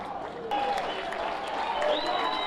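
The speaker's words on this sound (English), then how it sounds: "big round of applause" Spectators at an athletics meeting applaud, a continuous crowd clapping that swells slightly partway through while an announcer talks over it.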